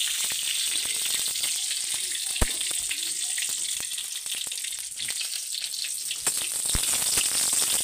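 Bay leaf and a green chilli fry in oil with a steady, moderately loud sizzle and crackle that runs alone throughout, with a few sharp pops standing out.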